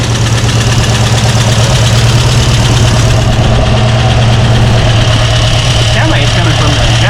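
A car engine fitted with a Holley Sniper 2 fuel injection system idles steadily and loudly up close, a smooth, even low rumble with a constant mechanical hum and no breaks.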